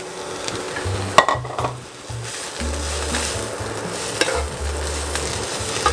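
Grated hash brown potatoes sizzle in a hot pan, a steady close frying hiss with occasional utensil clatter and stirring knocks.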